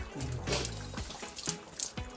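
Warm water pours and splashes during a child's bath, with irregular gushes and trickles close by.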